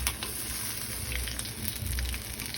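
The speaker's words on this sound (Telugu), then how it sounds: "తర్వాత తురుముకున్న మామిడికాయ ఉంది కదండి, ఇది ఇందులో వేసుకుని కొంచెం సేపు దోరగా ఫ్రై చేసుకోవాలి" Grated raw mango frying in a pan with a bit of ginger for raw mango rice, giving a steady, soft sizzle with faint crackles and no talking.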